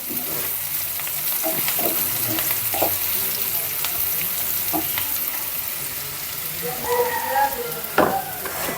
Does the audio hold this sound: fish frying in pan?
yes